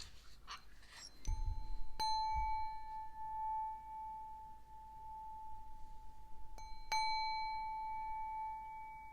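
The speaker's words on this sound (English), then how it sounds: "I'm going to ring the bell a couple times." A small bell rung twice, each strike a bright ding that rings on with a long, slowly fading tone, the two strikes about five seconds apart in a quiet room.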